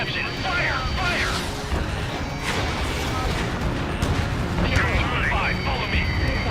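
Explosions and blasts roar through a naval combat mission in Ace Combat 7, a missile hitting an Aegis vessel; the dense, loud boom of battle carries on throughout, with radio voices talking over it.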